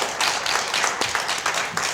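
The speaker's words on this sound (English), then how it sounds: "Okay, by applause. Native Vermonters," A small live audience of native Vermonters claps in a brief, uneven burst of applause, moderately close and fairly light, continuing through the moment without any voices.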